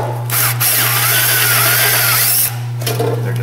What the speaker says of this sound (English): we're gonna drill the rivet head off it